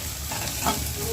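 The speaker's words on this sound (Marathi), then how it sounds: "तेल गरम झाले की मी कांदा टाकणार आहे। एक कांदा आहे हा, कांद्याला भाजून घेते," Chopped onion sizzles in hot oil in a pan, a brief close steady frying hiss with slight stirring texture and no speech.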